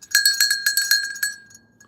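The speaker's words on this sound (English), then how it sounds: "So that bell, what you heard last time" A small bell beside a livestream host rings in a quick run of about eight bright, metallic strikes, each leaving a lingering high ring, then trails off into a faint decaying tone with no talk over it.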